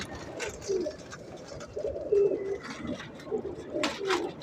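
Pigeons of several fancy breeds, including teddy pigeons, cooing softly in repeated low murmuring phrases, fairly faint against a quiet background with occasional light rustle.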